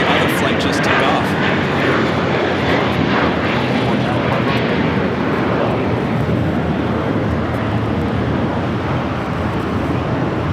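An airliner going around at LAX rumbles as a broad, steady engine roar, mixed with airport terminal hubbub and a public address voice talking over it throughout.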